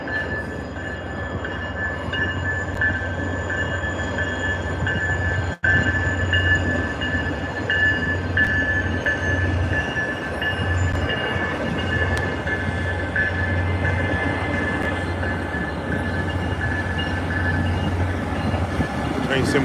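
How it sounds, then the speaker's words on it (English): A train pulls out of a station, a steady low rumble of rolling wheels and engine with a faint high squeal, close and continuous, briefly cut by one sharp click; no talk is audible over the noise. "This is the train to Stilton"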